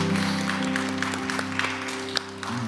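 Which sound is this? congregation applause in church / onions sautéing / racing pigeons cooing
congregation applause in church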